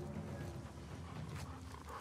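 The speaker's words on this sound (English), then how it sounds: "Doggy." Growling dog in the survival game The Last of Us Part II, a low rough snarl close by, over a dense game background during a tense encounter.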